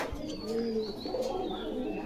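Pigeons at a pigeon house in Bogura, Bangladesh give soft, repeated throaty coos, several birds overlapping steadily against a low background of murmured voices.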